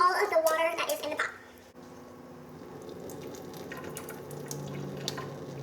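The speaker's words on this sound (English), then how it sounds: "drain your noodles" Noodle water is poured out of a pot into a sink, a splashing rush that fades into a softer continuous trickle and drip, with a voice talking over it.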